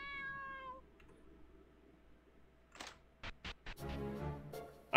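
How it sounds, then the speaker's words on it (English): Cat meowing in the video game Untold Story, a clear, drawn-out harmonic meow near the start, followed by a few sharp clicks and a louder burst of game sound. "That cat again."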